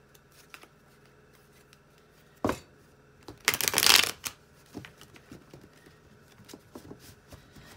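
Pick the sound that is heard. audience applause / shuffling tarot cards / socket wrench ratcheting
shuffling tarot cards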